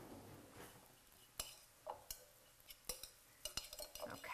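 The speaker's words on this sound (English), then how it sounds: "I'm just gonna grab a little spoon to give that a stir" A small spoon stirs chopped parsley into a mixture with onions and garlic, giving scattered light clinks and scrapes against the dish, fairly quiet and irregular, with faint sizzling in the background.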